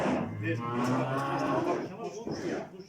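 Cattle moo repeatedly during livestock loading at a farm, several drawn-out lowing calls close by and fairly loud, overlapping one another with faint background voices.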